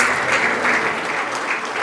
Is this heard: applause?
yes